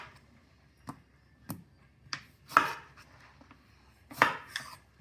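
A knife cutting through lemons on a cutting board in a home kitchen: several distinct, crisp chops and taps at an irregular pace, close and fairly clear against a quiet background.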